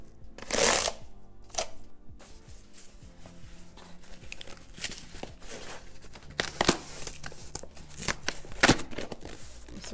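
Cardboard tabs on the box of a pair of Ivy Park Drip 2.2 sneakers are pried open, giving close, uneven crinkling, scraping and papery snaps with no talk.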